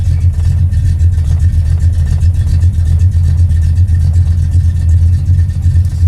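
An AMX car engine idles after carburetor tuning with a slightly thicker spacer, a steady loud low rumble with light revving, close and continuous with no talking.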